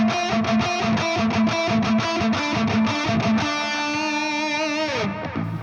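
Synth lead drenched in heavy reverb plays a rhythmic run of distorted, buzzy stabs, then holds a long sustained note that bends downward and fades into a wash of reverb tail.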